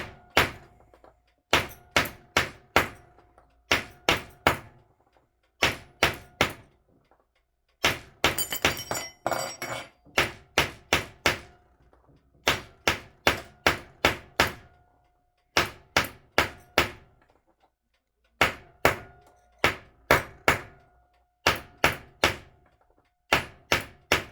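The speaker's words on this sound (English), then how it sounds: "you kind of want to push your hammer towards the edge as you hammer it." Small hammer taps peen brass bushings into the plate of an antique Junghans calendar wall clock, striking in quick bursts of four or five sharp metallic blows separated by short pauses. The taps are close and crisp, with no talk.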